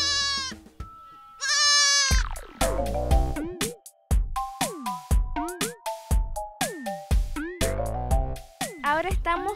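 A young farm animal bleats repeatedly for its mother while being bottle-fed, its close, loud calls rising and falling in a rapid series of cries, with a person talking over part of it.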